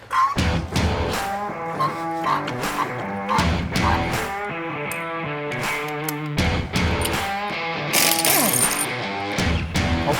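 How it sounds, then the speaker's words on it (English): A Pittsburgh floor jack from Harbor Freight ratchets as it lifts a Toyota Tundra truck by the oil pan, a steady series of close, loud mechanical clicks and pumping strokes with no talk. "Hopefully this high performance jack from Pittsburgh Harbor Freight does the job."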